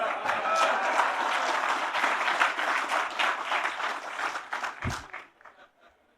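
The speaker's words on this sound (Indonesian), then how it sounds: "Kalau saya sebut gotong royong, yang paling keras tepuk tangan kawan-kawan PDIP." Audience applause at a presidential speech by Prabowo in Indonesia launching the Koperasi Merah Putih cooperatives, a dense sustained crowd of clapping that thins and fades out near the end.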